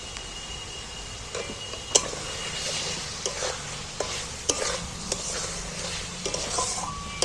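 Eggs being stir-fried in a cooked-down onion and spice masala, with a soft steady sizzle and several sharp scrapes and clinks of a spatula against the pan, no voices.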